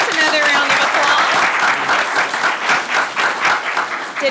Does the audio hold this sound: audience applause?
yes